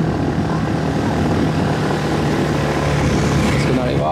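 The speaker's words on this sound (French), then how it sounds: "Je suis à fond ici, le moteur est de 125 et vous voyez qu'il a du mal." A 125cc motorbike engine strains at full throttle up a steep road on Koh Phangan, a loud, constant droning whine close by, with a voice talking over it.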